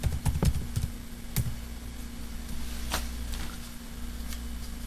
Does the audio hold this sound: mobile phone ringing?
no